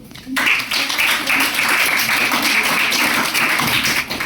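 Eighth-grade students in a classroom clap for a presenting group, a dense, steady patter of many hands that starts abruptly and continues throughout, with faint voices mixed in.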